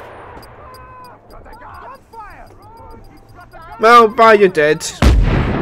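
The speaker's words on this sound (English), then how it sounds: "Let's just shoot them with a grenade" Grenade shots and explosions in Just Cause 3, a burst of loud rapid blasts near the end following a quieter stretch of game sounds, with someone talking over the action.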